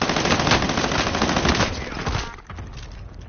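Sustained rapid machine-gun fire in Call of Duty, loud and close, hammering continuously for over a second before tapering off into scattered shots.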